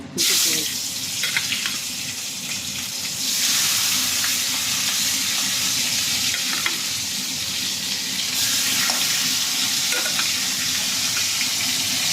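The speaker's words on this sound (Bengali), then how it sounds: "এরপরে এই তেলে আমি মাছগুলো ছাড়বো এক এক করে" Pieces of boal fish fry in hot oil, a loud, dense sizzle with crackling spits throughout, swelling stronger partway through and holding steady to the end.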